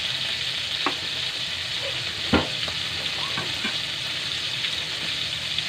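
Food frying in a pan gives a continuous close sizzle with a few sharp clicks and clatters from stirring, and no voices.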